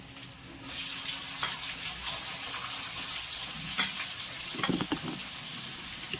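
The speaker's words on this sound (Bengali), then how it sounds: "পেঁয়াজটা তেলে দিয়ে দিচ্ছি। তেলে দিয়ে একটু ভাজতে থাকুন কিছুক্ষণ।" Onions frying in hot oil with cumin seeds for a Bengali chicken fry: a steady, fairly loud sizzling hiss starts after a short quiet moment and carries on, with a few utensil knocks and stirring sounds. No one speaks.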